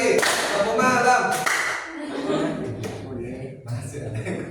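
A classroom group of students claps in short bursts during a clapping game, with quick clusters of hand claps separated by pauses, mixed with voices and some laughter.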